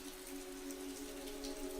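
Steady rain falls across a park, a dense, even patter of drops on surfaces with a constant low hum beneath, soft and unbroken throughout.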